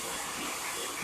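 Blow dryer with a comb attachment running on 4C hair in a salon, a steady, close, loud whooshing hiss that stays constant with no speech.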